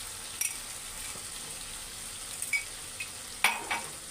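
Whisked yogurt going into a frying fish curry (doi maach) gives a steady soft sizzle, broken by a few light stirring scrapes and clinks of a utensil against the pan, heard close and alone.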